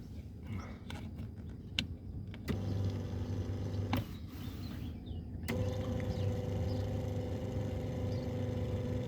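Electric adjustable pedal box in a Jaguar saloon motors back and forth, producing a steady whine that starts and stops in distinct runs over a quiet cabin background.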